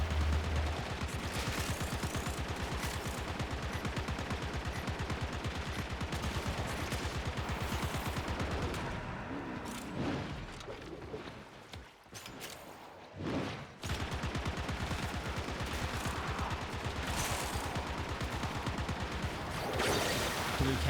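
Continuous rapid automatic gunfire from a Warframe-style shooter game during a Yareli build showcase, dense sustained bursts filling most of the stretch, with a short lull in the middle before firing resumes, loud and without pause.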